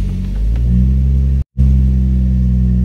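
A Toyota JZX110's engine, started cold, runs with a loud, deep, steady rumble up close, cuts out for a brief instant midway, then carries on at the same even idle.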